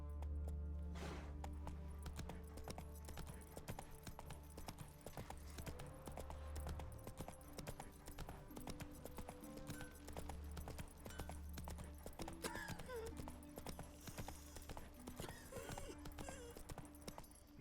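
A horse gallops in the video game Witcher 3, its hooves beating a steady, rapid clip-clop rhythm that carries on for the whole stretch at a faint level, with no speech.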